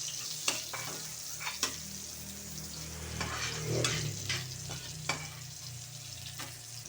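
Onions frying in a pan after garlic for chicken teriyaki, a close, even sizzle broken by several sharp spatula knocks and scrapes against the pan, no voices.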